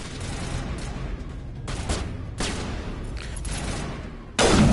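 Loud sniper rifle shots in a video game, three sharp broadband cracks at roughly even intervals with a decaying tail, then a louder blast at the end, over continuous background game noise.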